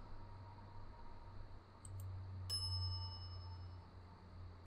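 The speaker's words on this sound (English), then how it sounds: "some idiot's already ringing that stupid bell" A service bell is struck once at a shop counter in The Secret of Monkey Island, a single bright ding over a low steady hum, preceded by faint clicks.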